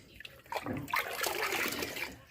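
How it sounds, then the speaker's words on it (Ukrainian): Settled water is poured onto seedling soil in a cassette tray for pepper and lettuce sowing, a close, soft splashing trickle that starts after a brief pause and runs steadily for about a second and a half. "обов'язково проливаю землю фітоспорином"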